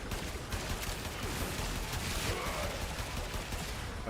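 Dense gunfire and explosions from the video game Warframe, a continuous rattling barrage with heavy low rumble, fairly quiet and unbroken, with no talk over it.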